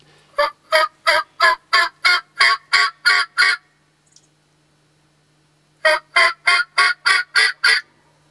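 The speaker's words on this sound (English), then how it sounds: "if you can hear them in the background, they're gobbling pretty good." Loud wild turkey toms gobble in rapid repeated bursts, a run of about ten, a pause, then another run of about eight, close and clear with no talking.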